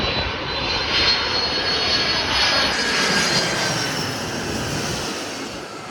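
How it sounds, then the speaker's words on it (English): A UPS Boeing 767-300ER cargo jet at O'Hare airport, its engines producing a loud sustained roar with a high whine, steady and close throughout. "we got a Boeing 767-34AFER UPS from SDF Louisville International Airport"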